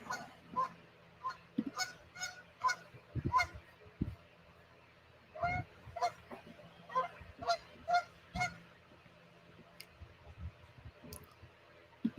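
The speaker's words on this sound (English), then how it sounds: "goose squawking because my brother just walked by" A goose honks repeatedly in irregular bursts, loud and close, with occasional clicks and low thuds between calls.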